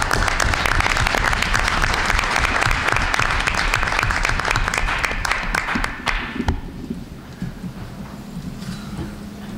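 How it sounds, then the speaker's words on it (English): A room full of people at a school board meeting claps loudly and steadily for several seconds, then the applause tapers off quickly into quiet murmuring. "Give a round of applause, too."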